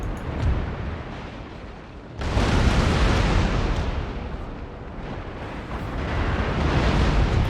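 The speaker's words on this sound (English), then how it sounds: "I'm going to end up taking a double broadside." Ship cannon broadside in Empire: Total War, Great Britain's fleet exchanging fire: dense, continuous rumbling booms with a loud surge after two seconds, sustained heavy barrage without speech.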